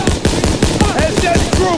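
Rapid automatic gunfire in Call of Duty WWII, with loud, close, evenly spaced shots in a steady rhythm over roughly two seconds.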